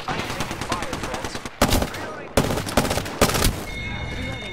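Rapid automatic gunfire during a video game shootout, dense repeated cracks in sustained bursts with brief gaps between them, loud and close, with a voice speaking faintly underneath.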